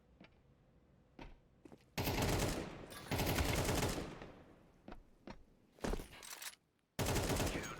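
Gunfire in a tactical shooter video game during a competitive esports match: a few faint isolated shots, then long, loud, sustained bursts of automatic fire with brief pauses in between.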